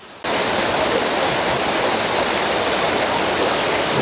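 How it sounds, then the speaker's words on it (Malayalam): A hidden waterfall in Ernakulam pours steadily onto rock: a loud, dense, continuous rush of falling water that starts abruptly after a brief quiet moment and holds unbroken to the end, with no voices. "എൻ്റെ പുറകിൽ നിന്ന് തന്നെ വെള്ളം വീഴുന്നത്"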